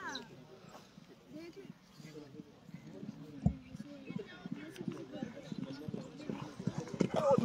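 Horses being ridden at a riding school in Pakistan, hooves clip-clopping in a steady, fairly quiet rhythm under frequent speech and background chatter.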